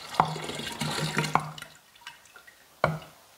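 Black tea and water pour into a batch of spiced pear mead, a splashing, trickling stream with a few sharp clinks, then quieter drips and a final knock.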